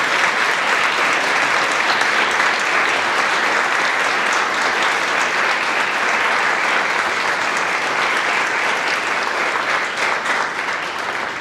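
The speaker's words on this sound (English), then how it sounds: "please stand one more time for a well-deserved round of applause." Steady, dense audience applause at an NTHS honor society induction ceremony as teachers stand to be recognized, loud and sustained without a break for about eleven seconds.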